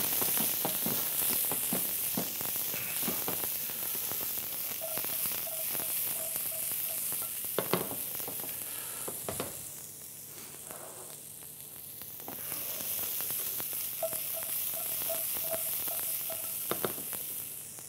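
Cucumbers tossed with a lemongrass mix sizzle briefly in a lightly oiled pan, a steady close frying hiss with scattered crackles that eases off midway before picking up again.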